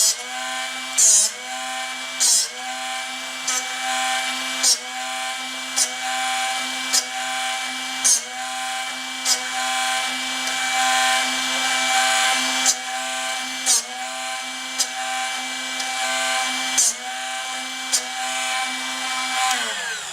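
A Drill Doctor 750X drill bit sharpener runs with a steady high-pitched motor whine, punctuated by repeated brief grinding scrapes at a regular rhythm as the bit is rotated against the wheel, loud and close with no talking.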